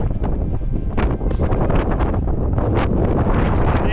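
Strong wind buffets the microphone near a mountain rescue hut in the Cheviot Hills, a loud, continuous roar with sharp gusty bursts throughout and no voices.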